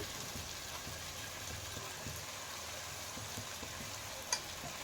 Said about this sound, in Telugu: మనం కట్ చేసి పెట్టుకున్న వంకాయలను వేసుకోవాలి